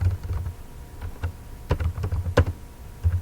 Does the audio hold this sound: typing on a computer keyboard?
yes